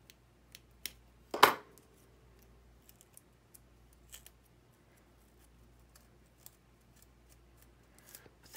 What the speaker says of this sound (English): if you want to cut it some more, just go in with your scissors and